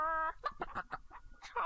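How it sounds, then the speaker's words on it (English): A rooster in the game King's Quest 3 gives a short run of clucks and squawks, close and fairly quiet, with a drawn-out call at the start and end. "Charming old rooster!"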